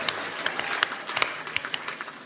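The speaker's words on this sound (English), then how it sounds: "A clap for the man that didn't die." A live comedy audience in San Francisco claps together in a dense, steady patter that holds at an even level throughout, with a few sharper individual claps standing out.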